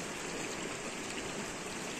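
A river flows past a village riverbank, its water rushing in a continuous, even wash of noise that is close and fairly loud, with no talking.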